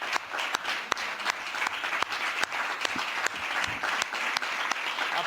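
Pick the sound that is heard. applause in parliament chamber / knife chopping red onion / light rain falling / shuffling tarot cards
applause in parliament chamber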